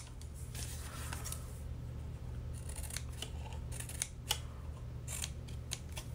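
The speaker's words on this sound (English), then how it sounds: "Cut straight along that score line." Scissors cut through paper card along a score line with a series of crisp snips and small clicks at an uneven pace, up close over a low steady hum.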